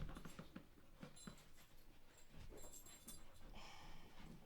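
A dog pants and licks close by, with quick wet rhythmic breaths and slurping over a soft indoor background.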